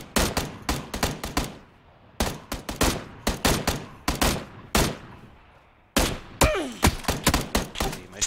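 Gunshots in a video game come in loud, sharp bursts of rapid fire, several volleys separated by short pauses, close and dominant over quiet background.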